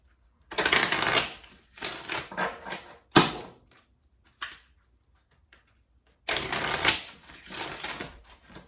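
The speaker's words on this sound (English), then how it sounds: "So let's shuffle here." Tarot cards being shuffled in several bursts of crisp riffling and flapping, close and loud, separated by short pauses and a few soft taps.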